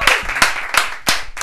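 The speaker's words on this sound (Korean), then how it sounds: "박수 하고 넘어가요" Audience clapping at a live political broadcast in Mapo, a few sharp, rhythmic handclaps close by in a short burst.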